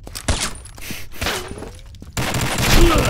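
Video game gunfire: rapid bursts of shots crack in clusters with sharp impacts, loud and close, continuing through most of the moment with little talk.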